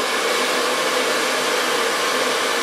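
A hair dryer blows a continuous, even whooshing roar close up while drying short hair in a salon, with no pauses or other sounds.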